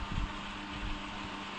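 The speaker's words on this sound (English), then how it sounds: "that is the rain on the conservatory roof." Rain drumming on a conservatory roof, a steady broadband hiss with soft low thumps, continuous and fairly faint, heard indoors alongside a low hum.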